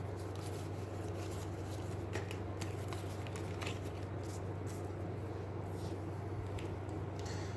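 Cards being shuffled during a game of the Aeons End board game, a steady close riffling and sliding that runs the whole time over a low constant hum.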